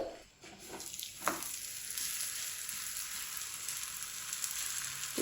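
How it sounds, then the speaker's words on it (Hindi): A roti stuffed with cauliflower crisping in a little oil on a pan over low heat gives off a steady, close sizzle and crackle throughout, with no voices. "अब यहाँ पे ऑयल थोड़ा सा लगा देंगे नीचे कि रोटी क्रिस्पी बनेगी"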